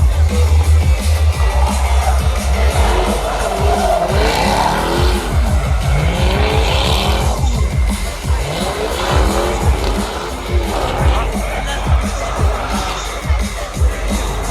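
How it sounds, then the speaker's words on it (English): At Bug Jam drag racing, a car with a powerful engine spins and smokes its tyres, its loud revving engine and screeching tyre squeal filling the air over a distant crowd. "you might as well smoke the tyres"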